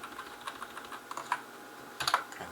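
Quiet clicks of fingers typing on a computer keyboard during spreadsheet work, with irregular keystrokes that speed into a quick burst near the end, close and alone.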